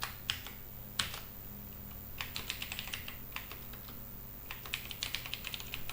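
Computer keyboard keys tapped while writing JavaScript code, with quick clustered keystrokes in short bursts and brief pauses between them, close and fairly quiet over a low steady background hum.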